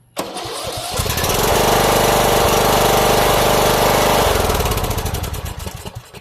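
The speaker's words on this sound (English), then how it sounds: "It just runs on choke and then it'll start running like really bad." Small engine that sat six months, fired up and running on choke: a loud, rough, steady roar with heavy low-end pulsing that builds quickly and then tapers slightly toward the end, no talking.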